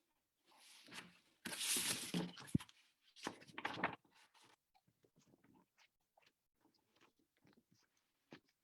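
Scissors cutting paper during a lettering session, a series of soft, crisp snips and rustles close by, louder early on and then sparse faint cuts, with no talking.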